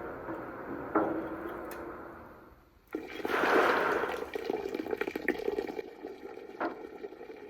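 Maple sap boiled down from 60 gallons drains out of an evaporator pan in a steady trickling, splashing flow, close and soft. It briefly eases off, then surges louder before settling into an uneven pour.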